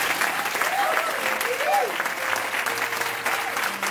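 Steady applause from an audience at a church seminar fills the space, dense and continuous, with a voice speaking over it.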